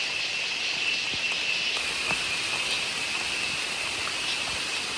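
Steady rain falls through the forest on the Brahmagiri trek near Thirunelli, a constant soft hiss with occasional heavier drips and a faint high insect chirp in the background.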